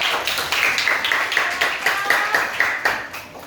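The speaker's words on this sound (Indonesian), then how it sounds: "Tepuk tangan untuk kelompok komodo." Clapping in a grade-five classroom for a student group, a small group of children beating out rhythmic, evenly spaced claps, fairly close, for about three seconds with no talk over it.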